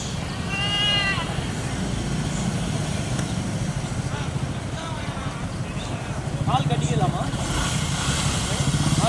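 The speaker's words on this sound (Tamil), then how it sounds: "ஒரு உருப்படி ஃபுல்லாக ஓட்டிகிட்டு வந்துருக்காங்க செம்மறியாடு" Sheep bleating at a busy goat and sheep market in Nimmiyampattu, Tirupattur district, with a clear close bleat early on and fainter bleats later over a constant crowd murmur and passing engine noise, with people talking nearby.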